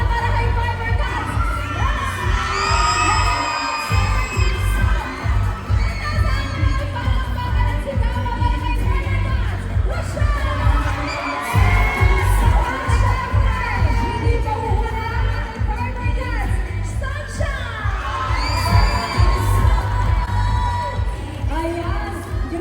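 A crowd at an outdoor variety show in Quirino screams and cheers for a performing act, a sustained loud wall of shouting and high children's yells over pounding bass-heavy music, with rising whoops every few seconds.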